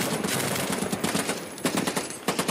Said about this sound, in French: les forces spéciales russes ouvrent le feu sur les Zodiacs ukrainiens à la mitrailleuse lourde